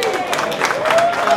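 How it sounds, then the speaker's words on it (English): A convention audience at an auction bursts into applause, dense clapping and some cheering from a crowd filling the room briefly and continuously. "Give them a big round of applause,"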